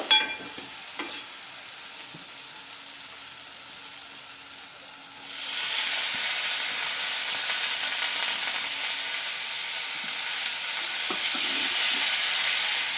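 Spinach greens drop into hot spiced oil in a pan for palong kopi, setting off a loud, steady sizzle of frying after a quieter opening with brief stirring clinks.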